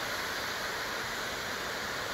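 A waterfall at a partly frozen creek in winter gives a steady broadband rush of falling water, continuous and fairly close, with no talk over it.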